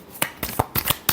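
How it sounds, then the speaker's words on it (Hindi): Tarot cards are shuffled by hand in a quick burst of five or six crisp riffling flicks, close up and unevenly spaced. "last shuffle"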